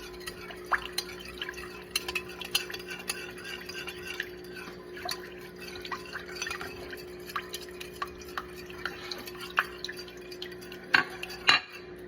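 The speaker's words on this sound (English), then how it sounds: "I'm just gonna stir that around and just kind of slightly dissolve it" A spoon stirs granulated white sugar into liquid for bread dough, with soft scattered clinks and scrapes against the bowl over a faint steady hum.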